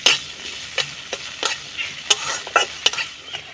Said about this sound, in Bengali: এবার নাড়াচাড়া করে ভেজে নেব।